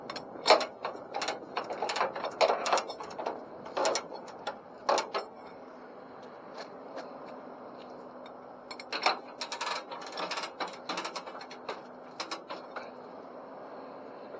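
Ratcheting tie-down straps being cranked tight on a car carrier trailer, bursts of close mechanical clicking and creaking in repeated runs separated by brief pauses, no talking.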